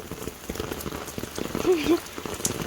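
Rain falls steadily outdoors in rural Thailand, a soft continuous patter with scattered drops hitting surfaces, under distant voices.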